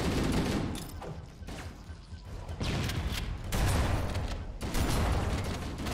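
Dense automatic gunfire in Halo: CE Anniversary as enemies are shot, loud continuous bursts with brief pauses and mechanical clatter, no voices.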